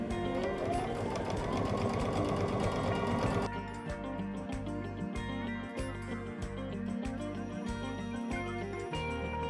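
A sewing machine stitches a seam on a pillow of Halloween fabric, first in a fast continuous whirr, then in slower, distinct rhythmic pulses, loud and close with no talking.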